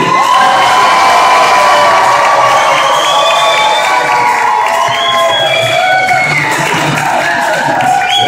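Wedding guests break into loud, sustained applause mixed with cheers, whoops and shouts from a close, packed crowd, continuing without a break.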